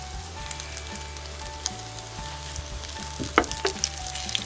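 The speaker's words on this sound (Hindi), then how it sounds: "दोनों साइडों से भी गोल्डन कलर आने तक फ्राई कर लूँगी।" Chicken and vegetable cutlets fry in hot oil with a steady close sizzle and faint crackles, ending in a few louder pops and clinks, with no voices.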